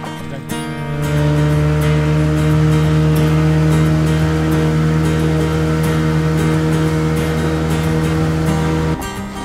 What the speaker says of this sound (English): So we're gonna get the speedboat back to Sai Kung instead.